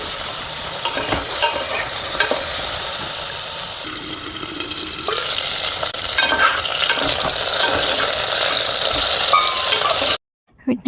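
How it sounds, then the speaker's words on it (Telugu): Food fries gently on a low flame in a home kitchen pan, a steady, close sizzle with stirring scrapes that cuts off abruptly near the end. "దీన్ని అయితే ఇలా సిమ్లో పెట్టుకొని ఒక 5 to 10 minutes అలా లైట్గా ఫ్రై అవనిద్దాం."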